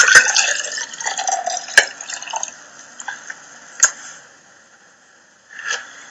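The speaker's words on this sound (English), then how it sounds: "Now we're going to pour this juice into this glass." Juice is poured from one container into a glass, with light liquid trickling and a few sharp clinks of the glass across several seconds, close and clear with no talking.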